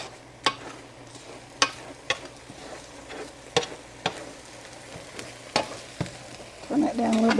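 Eggs frying in a pan for chicken fried rice, a steady low sizzle broken by several sharp clinks or scrapes of a utensil, with a louder burst of crackling near the end; no one speaks.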